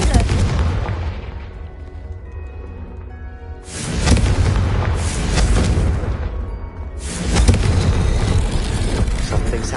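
Booming explosions from the Confringo blasting spell in the Hogwarts Legacy video game, two heavy bursts that rise sharply and linger amid a rumbling game soundscape.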